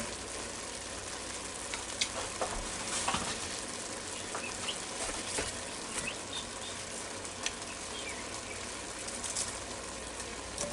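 Onion sizzling on the sear setting of a Ninja Foodi cooker, a continuous faint crackling fry with occasional soft taps and scrapes as it is spread out.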